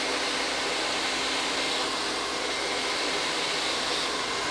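A hair dryer blows steadily while drying hair, a loud constant airy whoosh with a motor hum, unbroken from start to finish with no talk.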